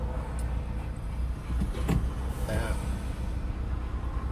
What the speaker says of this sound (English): So I'm just in Doncaster, stuck in traffic.